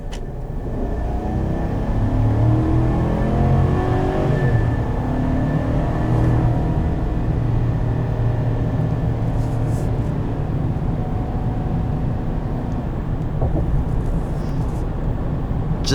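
A 2020 Chevrolet Silverado 1500 LT with the 5.3 engine accelerates, heard from inside as a loud, steady engine drone and road rumble, with the pitch rising gradually through gears, no talking over it.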